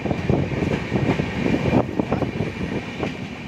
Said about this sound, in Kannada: ಸಾಂಗ್ಲಿಯಿಂದ KSR ಮೆಜೆಸ್ಟಿಕ್ ಹೋಗೋ ರಾಣಿ ಚೆನ್ನಮ್ಮ ಎಕ್ಸ್ಪ್ರೆಸ್ಸು ಈಗ ಯಶವಂತಪುರ ರೈಲ್ವೆ ಸ್ಟೇಷನ್ಗೆ ಬರ್ತಾ ಇದೆ